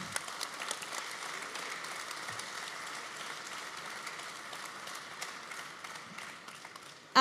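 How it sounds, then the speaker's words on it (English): An audience at the Salon du Bourget 2019 applauds Apollo astronauts, a soft, distant patter of clapping that carries on steadily and ends in a sudden loud burst. "I think you can applaud."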